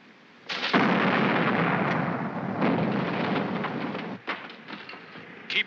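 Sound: ship's cannons firing, in a movie

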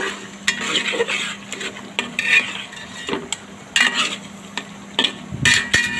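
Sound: stirring fish head in a pan

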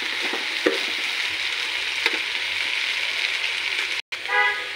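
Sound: water added to frying spiced food in pan

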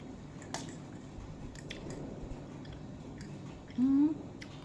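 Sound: chewing khanom jeen rice noodles while eating

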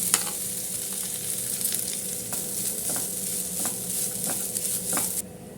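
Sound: frying coconut with cashews and raisins in a pan

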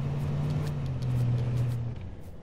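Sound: vehicle engine in the video game H1Z1

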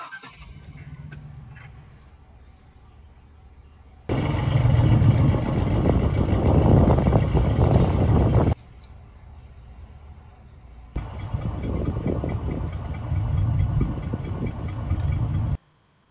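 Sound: car engine idling

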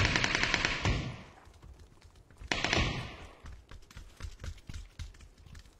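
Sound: gunfire from a player shooting in a video game

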